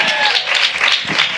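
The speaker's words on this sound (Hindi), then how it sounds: "ताली तो ऐसे बजाते हो प्रचार बंद हो जाता है मेरा।" Church congregation clapping during a sermon, a burst of irregular close-up handclaps in uneven rhythm, fairly loud for its short length, with no clear speech over it.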